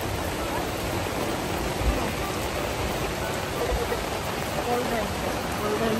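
Steady hiss of rain falling in Pagar Alam, Indonesia, a continuous even wash of droplets on surfaces, fairly soft and unbroken for the whole stretch.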